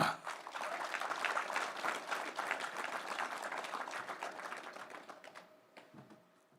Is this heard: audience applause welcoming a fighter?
yes